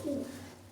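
A prize-winning racing pigeon gives one short, deep coo close by, its throaty tone fading quickly into quiet.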